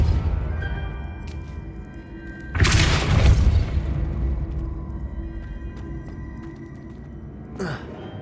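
In Hogwarts Legacy, casting the Depulso spell gives a sudden heavy whooshing boom that lands partway through and fades slowly over a low ambient game background, with a second brief burst near the end.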